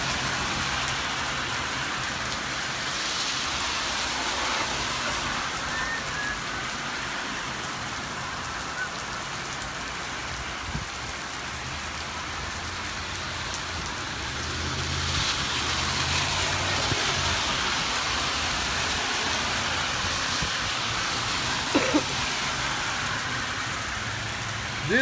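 Heavy downpour in Big Bear Lake, California: a steady, loud hiss of rain falling on surfaces without letup, with occasional heavier drips and a faint passing car underneath.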